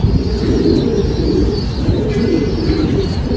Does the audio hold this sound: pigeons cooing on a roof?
yes